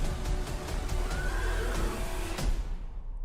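Horse whinnying loudly in a John Wick movie scene, a drawn-out neigh lasting a few seconds over dense background rumble and clatter.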